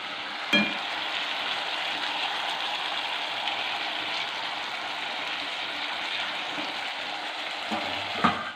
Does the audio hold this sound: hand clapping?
no